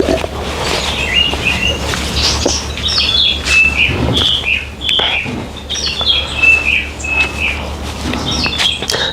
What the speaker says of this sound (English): the sound of the chirping birds?